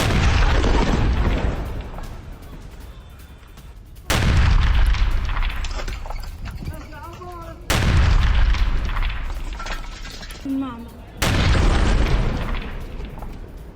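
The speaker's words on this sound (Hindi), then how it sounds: "गाजा में इजराइल ने किया है भीषण अटैक और एयर स्ट्राइक से दहला है गाजा" Israeli air strikes on Gaza bring four heavy, deep booms spaced a few seconds apart, each loud and close and followed by a long rumbling decay, with faint distant sounds between the blasts.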